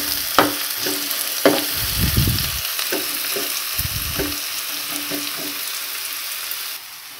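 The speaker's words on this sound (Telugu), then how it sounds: "ఇప్పుడు స్టవ్ని లో ఫ్లేమ్లో పెట్టుకుని ఉల్లిపాయలు బాగా మగ్గనివ్వాలి." Onions frying gently in oil over a low flame give a steady soft sizzle with occasional stirring scrapes and a few louder low thumps, close and unaccompanied by speech.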